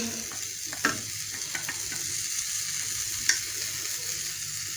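Food frying in a pan over a low flame, a steady gentle sizzle with a few sharp clinks and scrapes of a utensil stirring or flipping, close and moderately quiet.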